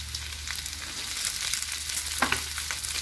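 Red chilies, bird's eye chilies, shallots and garlic fry in hot oil with a steady, broad crackling sizzle, close and continuous, with a brief louder pop of spatter near the end.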